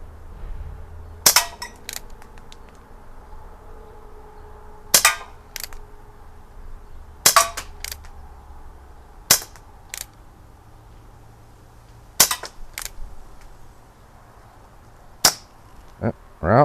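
An Umarex Colt Peacemaker CO2 revolver fires steel BBs in about eight sharp, close single cracks spaced a second or more apart, each followed by a faint metallic tick, against a quiet outdoor background with no talk.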